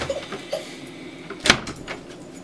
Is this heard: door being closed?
yes